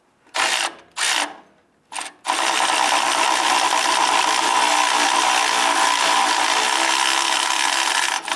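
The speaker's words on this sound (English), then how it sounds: "We're now going to use our 15mm socket on our electric impact, reach around the other side," Electric impact wrench with a 15mm socket loosening a bolt on a 2002-2008 Dodge Ram 1500 during catalytic converter replacement; three short bursts, then a long continuous loud whirring run, close up, no talk.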